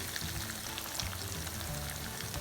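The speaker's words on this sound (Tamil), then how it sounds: "2 பீஸ் போட்டு ஃப்ரை பண்ணிக்கோங்க" Chicken cheese rolls frying in hot oil, two pieces at a time, give a constant close crackling sizzle with dense popping bubbles and no talk.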